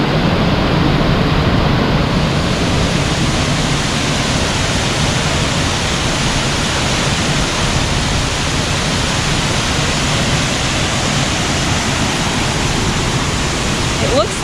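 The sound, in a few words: waterfall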